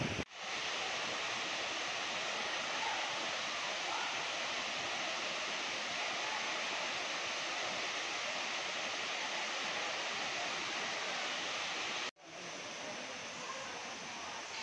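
Talakona waterfall pours down in a steady, loud roar of rushing water close by, a broad unbroken wash of sound that briefly drops out near the end before resuming.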